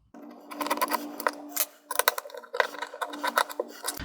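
3mm stainless steel screws are loosened and removed from an FX airgun stock, giving close, bursty metallic clicks and ratcheting scrapes that come in irregular clusters over a faint steady hum.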